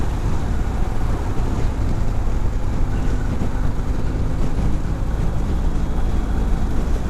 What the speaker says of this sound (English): I can really hear the wind noise and also the buffeting